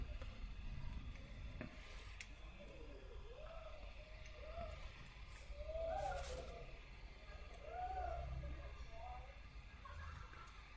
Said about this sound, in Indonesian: Dengan mesin UV printer